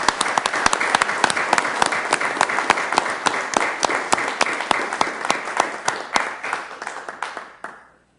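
Audience applause fills a city council meeting in Sioux Falls: sustained, dense clapping from a room full of people for about eight seconds, tapering off and fading out at the end.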